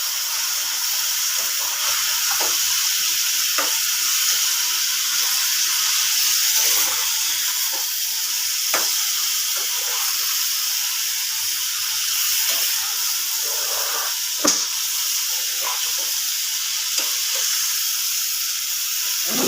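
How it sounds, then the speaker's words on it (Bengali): Potatoes fry in a sweet spice masala for a fish-and-vegetable stir-fry, giving a constant close hiss of sizzling broken by occasional knocks and scrapes of stirring. "ভাজা হয়ে গেছে, এবার আলুগুলো দিয়ে দিলাম।"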